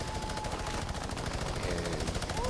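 Sustained minigun fire in the Fortnite video game, a loud continuous rapid burst that runs the whole stretch without letup, with a faint rising whine near the end.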